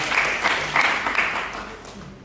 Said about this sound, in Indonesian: Boleh tepuk tangan dong untuk taman ketiga